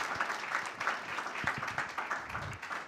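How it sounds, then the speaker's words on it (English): An audience at a film screening and conversation event applauds, steady clapping from many hands filling the whole moment, fairly close and without a break. "Can we give her another round of applause?"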